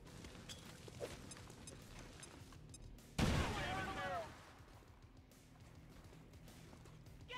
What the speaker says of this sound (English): Nice little grenade.